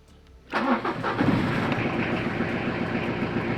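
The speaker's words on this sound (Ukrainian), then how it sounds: "Попробуємо зараз завести, побачити, що воно нам покаже." A Peugeot Expert van of the 1996–2006 generation is started from cold: a short crank, then the engine catches and settles into a loud, steady idle nearby.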